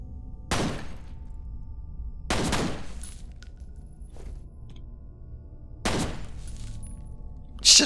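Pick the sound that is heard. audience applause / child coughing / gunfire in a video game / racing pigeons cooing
gunfire in a video game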